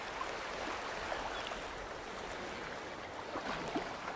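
Ocean tide washing in, a steady soft rush of surf and water with faint splashes throughout, distant and low, no voices.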